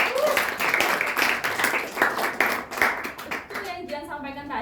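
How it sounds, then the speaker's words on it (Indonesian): Classroom clapping for a student during a microteaching lesson, a steady patter of many hands that fades out toward the end while a voice begins talking. "Boleh tepuk tangannya untuk Jihan"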